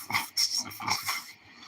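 A dog bursts into repeated barks mixed with a growl, loud and close, coming in several quick rhythmic bursts over a short stretch indoors.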